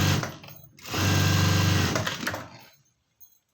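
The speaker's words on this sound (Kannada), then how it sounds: "ಈ ರೀತಿ ಒಂದು ಸ್ಟಿಚ್ ಹಾಕ್ಕೊಳ್ಬೇಕು ಫ್ರೆಂಡ್ಸ್ ಇಲ್ಲಿಗೆ" A sewing machine stitches along the edge of a blouse lining in a brief motor whir. It runs in a short steady burst, stops, then falls nearly silent.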